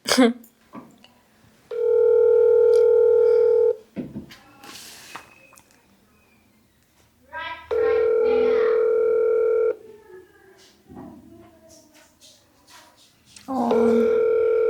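A telephone call tone sounds as steady, long, loud beeps, three separate pulses of about two seconds each, with a person talking quietly in the gaps between them.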